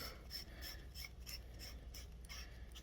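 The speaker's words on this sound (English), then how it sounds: "swapping out your emitter is just as simple as unscrewing this whole assembly and just simply taking the next one and screwing it in" Lightsaber emitter assembly being screwed onto a Hero Gen 2 hilt, giving a quiet run of faint, rhythmic ratcheting clicks and thread scrapes, close up and steady with no talking.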